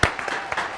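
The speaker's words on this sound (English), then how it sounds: "Let's go ahead and give her a round of applause." Brief burst of applause from a small studio audience, scattered claps overlapping for under a second.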